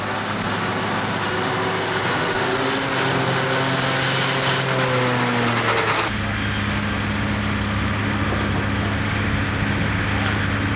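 A large tractor engine drones loudly with shifting tones, its pitch dropping midway as it works steadily nearby.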